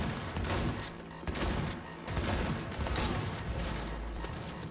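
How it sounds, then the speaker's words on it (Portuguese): Dense, continuous gunfire from the video game Cyberpunk 2077 rattles in rapid automatic bursts with brief dips, loud and close, with no speech over it. "Mirar na cabeça dele e meter bala."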